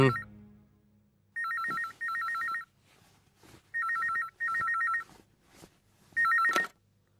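Telephone ringing in a Malayalam film, a loud electronic trill in five bursts with pauses between them, close and clear over near silence.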